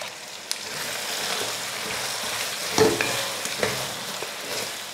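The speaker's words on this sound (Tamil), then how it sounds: "மசாலா உப்பெல்லாம் போட்டு 2-3 நிமிஷத்துக்கு நல்லா அந்த எண்ணெயிலேயே அந்த காய் கூட சேர்த்து வதக்கி விடுங்க" Brinjal, drumstick and potato sautéing with masala and salt in oil for a Tamil kara kulambu, a steady close sizzle with occasional stirring scrapes and clinks, no talk.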